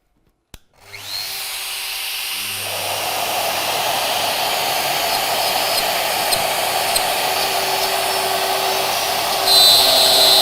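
A Shaper Origin handheld router spins up with a sharp click and whine, then cuts into a plate with a loud, steady high-pitched whir and grinding hiss that builds slightly and stays continuous, close.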